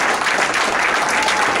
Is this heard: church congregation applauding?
yes